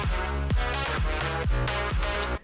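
A music mix plays with reverb and an uncut low-end rumble: a sustained tonal bed is punctuated by five regular descending thumps about half a second apart, loud and full throughout.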